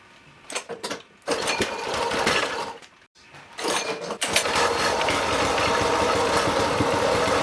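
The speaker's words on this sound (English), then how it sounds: "it's going to be a simple matter of pulling that cord and starting the engine" A Yard Force 21-inch front tine garden tiller engine is pull-started. Two short cranking bursts with a brief pause between them come close and loud, then the engine catches and runs at a steady idle with no talk.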